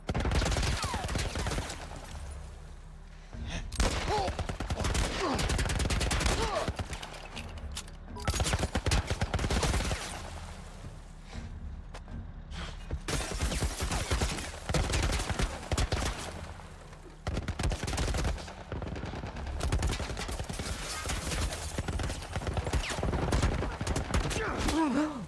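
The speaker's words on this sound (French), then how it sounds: "Un genre de tourelle militaire." A military-style turret fires in The Last of Us Part I, loud, dense bursts of gunfire that repeat and overlap almost continuously, with only brief pauses between volleys.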